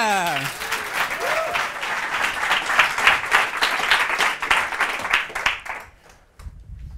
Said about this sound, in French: Allez, on applaudit la première candidature de Kevin.